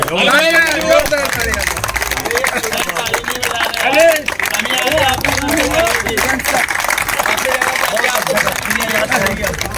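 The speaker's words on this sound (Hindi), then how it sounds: "ताली बजाओ।" A crowd of people clapping together at a hostel gathering, dense and steady applause mixed with voices and babble throughout.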